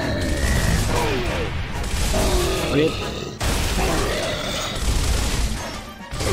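Heavy shotgun and gunfire fill a Gears of War firefight against a Boomer, with loud, dense, continuous blasts and crashing impacts. Someone talks under the noise.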